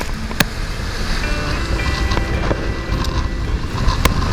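Gale-force wind rushing over an outdoor fishing spot during baitcasting, a constant loud buffeting roar with a few sharp gusty pops, and no talking.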